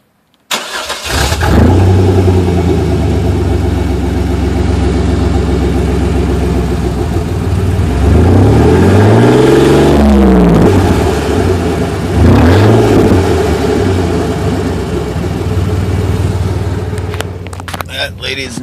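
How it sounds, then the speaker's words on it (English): A 1996 GMC Jimmy 4WD, stock and with no exhaust fitted, starts up close and loud, idles with a harsh roar and revs hard twice, rising and falling each time. "this is without exhaust and all stock"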